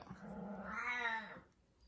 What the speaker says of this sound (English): And there is my cat making an appearance,